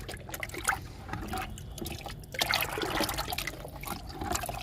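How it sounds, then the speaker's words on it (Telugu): Undiluted kitchen waste liquid poured directly onto three moringa plants, a continuous close splashing trickle with uneven surges as it hits the soil. "నేను డైల్యూట్ చేయడం లేదు డైరెక్ట్గా ఇస్తున్నాను ఈ మూడు మునగ మొక్కలకి"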